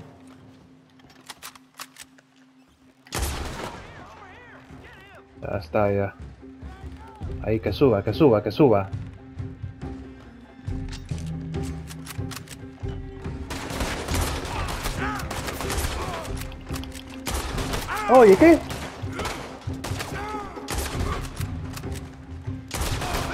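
Gunfire bursts crack out in a Red Dead Redemption 2 shootout with Pinkertons, with scattered single shots and rapid volleys coming in loud clusters between quieter gaps, while a player talks over the action.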